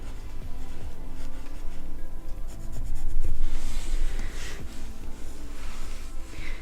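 Pencil scratching steadily across paper while drawing a Pokémon character, with close, continuous strokes, short scribbles and brief pauses, and no talking.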